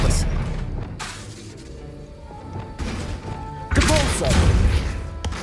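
Expelliarmus spell impacts in Hogwarts Legacy, several sharp booming thuds and crackling bursts separated by short pauses, loud and close, with a voice casting in between.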